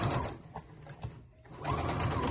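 Embroidery machine top stitching around the rim of a fabric treat jar koozie made from leftover quilt scraps, a close, quiet mechanical whirring with soft rhythmic clatter that dips briefly midway, then resumes.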